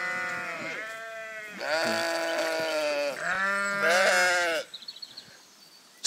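Sheep bleating loudly and close by, several long wavering cries one after another with barely a pause, ending in a few short soft sounds.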